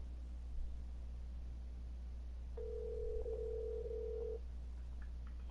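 A telephone line gives a single steady tone lasting about two seconds during a call, heard alone over a low background hum.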